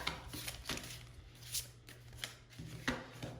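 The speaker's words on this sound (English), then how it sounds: "I want to give it a pretty good shuffle." A tarot card deck being shuffled by hand, quiet riffling bursts and soft card slaps repeating every half second or so, close and faint with a low steady hum underneath.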